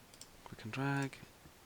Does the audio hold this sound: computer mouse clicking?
yes